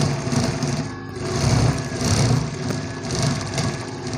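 A sewing machine runs steadily, stitching darts on a blouse, its close, continuous motor hum rising and falling slightly in speed without pause.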